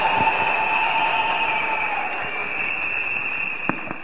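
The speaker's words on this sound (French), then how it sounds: "Il va s'avancer sous vos applaudissements" A congregation applauds during a consecration service for lay and clergy pastors, a soft, dense clatter lasting a few seconds over a steady hum from the hall's sound system.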